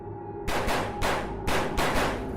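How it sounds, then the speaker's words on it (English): Several gunshots ring out right outside a door, four sharp loud broadband bursts in quick succession, each trailing off briefly into a steady low background hum. "several gunshots rang out right outside the door"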